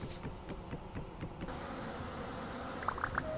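Bees buzz in the video game Vintage Story, a steady low droning hum with soft rhythmic pulses at first and a few brief higher chirps near the end.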